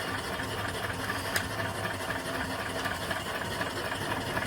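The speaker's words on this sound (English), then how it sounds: "here's my next engine and boiler" A small 3 to 4 horsepower steam engine bolted to the side of an 18-inch boiler with 22 copper tubes runs in a continuous, even churning hum, loud and close, with no talk.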